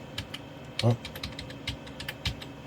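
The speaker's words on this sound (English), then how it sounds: "I'm going to use the keyboard now." Someone types on a computer keyboard during a karaoke machine repair, scattered quick key clicks in an uneven rhythm, close and moderately loud, with a brief vocal sound partway through.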